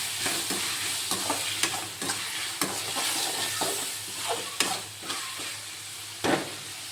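Tomatoes fry and are stirred in a pan while cooking prawn gravy, giving a steady close sizzle broken by repeated scraping stirs that come at an uneven rhythm and stand alone with no talk.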